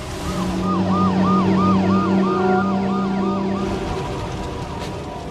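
Wailing emergency vehicle sirens, fire and rescue crews rushing to a plane crash on the Trans-Siberian railway near Perm, Russia; a loud rising-falling siren with steady engine rumble, sustained throughout and fading slightly toward the end.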